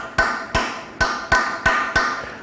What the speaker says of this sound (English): light tap with your hammer, seat them in there real good